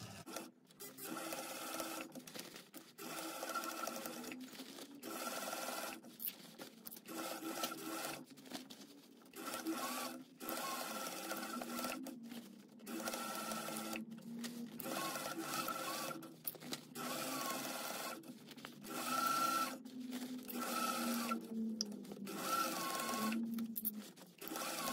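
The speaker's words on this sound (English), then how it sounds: "So I'm gonna sew this all the way around with 3/8 of an inch seam allowance." A sewing machine stitches a bag seam all the way around, running in steady bursts with brief pauses, quiet and close with a whirring hum.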